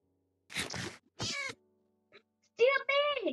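Several game-style cat meows from a Minecraft cat, loud and close, arriving as separate calls with short gaps, the last one longer and drawn out, with no talk over them.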